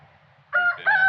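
A rooster crows once, close and loud, a short rising call in two parts with no voices over it.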